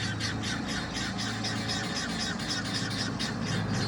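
Guinea fowl squawk in a frantic rapid chatter while being chased by utility vehicles on a farm, many harsh calls overlapping continuously over a rumbling engine.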